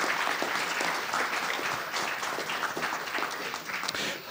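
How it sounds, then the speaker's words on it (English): Steady applause from a conference audience at the end of a talk on microservices, a dense crowd of clapping that holds at an even level for several seconds before easing slightly. "Please have applause now."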